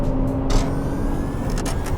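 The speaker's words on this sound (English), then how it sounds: "I put my foot all the way to the floor, watch what happens." A 2019 Porsche Cayenne e-Hybrid's gas engine cuts in as the pedal goes to the floor, giving a steady low engine drone under full acceleration with a couple of brief hissy bursts, with no talking.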